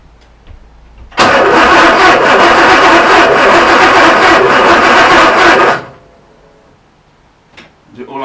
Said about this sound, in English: I'm not expecting it to start, I'm just trying to pump some fuel through